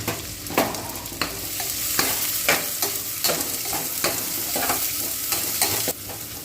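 Chopped big onion and a green chili sautéing in a pan while being stirred, heard as a loud, close sizzle broken by regular scraping strokes of a spoon every half second or so.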